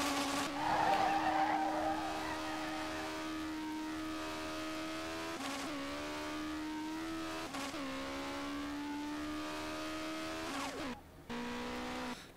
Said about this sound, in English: Maybe third gear start launching should be the norm.